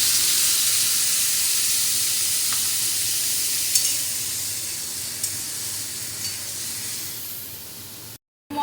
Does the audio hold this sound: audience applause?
no